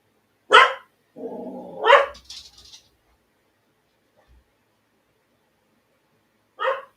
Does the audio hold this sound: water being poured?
no